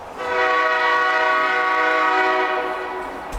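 A train horn blows one long, sustained, steady chord at moderate distance in American Truck Simulator, then tapers off, with no talking.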